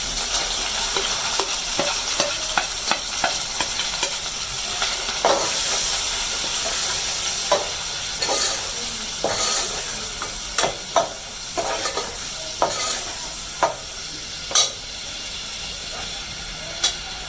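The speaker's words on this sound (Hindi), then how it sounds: "मसाला भी भून दो।" Spice paste with ginger and garlic fries with a steady hiss and sizzle while a utensil scrapes and clinks against the pan in irregular taps, close by.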